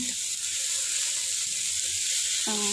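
Ingredients sautéing for stir-fried rice noodles, a soft, steady hiss of frying in a pan with faint stirring, a brief tonal clink near the end.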